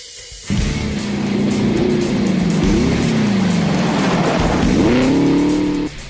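A rally car races along a touge stage, its engine roaring in close, loud, sustained revs that rise and fall through gear changes for several seconds before cutting off.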